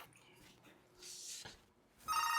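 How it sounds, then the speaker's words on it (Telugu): A telephone rings faintly in a quiet room, its electronic ringing tone growing louder and brighter toward the end. "ఫోన్ వస్తుంది"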